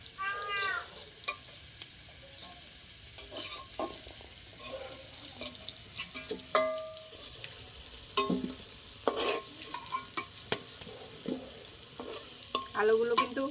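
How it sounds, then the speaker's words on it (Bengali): Potato pieces fry in hot oil in a pan, a soft sizzle broken by repeated clinks and scrapes of a spoon stirring and lifting them, irregular and close, with no talk. "এই দেখুন এরকম করে ভালো করে ভেজে নিতে হবে"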